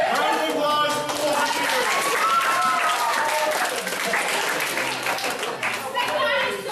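A church congregation claps steadily and fairly loudly, with excited voices and chatter mixed into the applause from start to finish.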